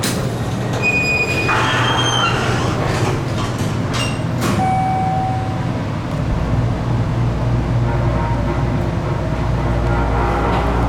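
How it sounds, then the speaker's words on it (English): A Schindler hydraulic elevator motor runs in a tunnel elevator. Its loud, steady hum and rumble sounds somewhat unhealthy and carries on throughout, with metallic squeals and scraping near the start. "That motor doesn't sound good either."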